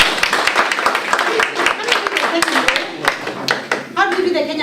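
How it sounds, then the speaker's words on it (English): An audience at a photography project event claps for a presenter named Taka, with loud, uneven hand claps close by, mixed with voices and a brief cheer near the end. "So now let's give Taka a clap."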